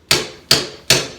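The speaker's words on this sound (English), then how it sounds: "I'm thinking I might have to hammer it." A hammer strikes a decorative handle on an old door, three sharp metallic blows at an even pace, each loud and close with a short ringing decay.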